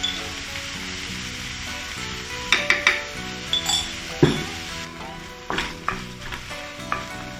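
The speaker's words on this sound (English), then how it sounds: "Stir-fry the minced pork in the pan to render the oil. Next, add the chili oil," Minced pork stir-frying in a pan with chili oil, a steady loud sizzle broken by a series of spatula clinks and scrapes against the pan, no voices.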